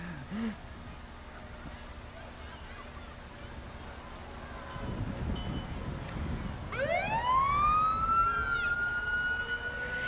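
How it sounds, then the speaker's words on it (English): A siren from an enclosed new-type fire engine rolls past during a Canada Day parade in Windsor, Canada, rising into a loud wailing sweep after a stretch of crowd and engine noise. "This is a completely enclosed new type of fire engine."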